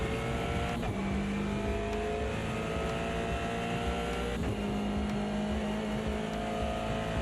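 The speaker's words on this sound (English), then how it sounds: "Oh, there's another car coming through." Race cars in an Aston Martin racing sim game, a steady engine drone with another car's engine note sweeping in and passing close, no voices.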